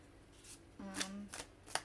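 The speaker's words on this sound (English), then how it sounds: "Let's go ahead and finish this shuffle." Tarot cards being shuffled by hand, a few quick riffling bursts and soft card slaps close to the microphone, with a faint tone sounding underneath.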